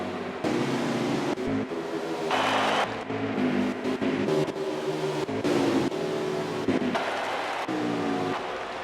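Racing trucks in a video game race, a loud engine drone with repeated revving and gear-change surges as several trucks run close together without pause.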